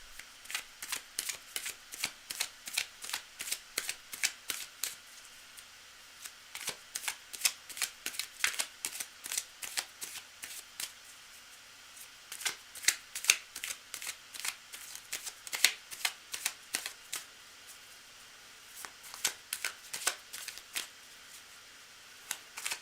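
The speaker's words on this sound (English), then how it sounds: "cards are already well shuffled" A deck of reading cards is shuffled over and over in a quiet room, giving crisp riffling bursts in quick, uneven runs with short pauses between them.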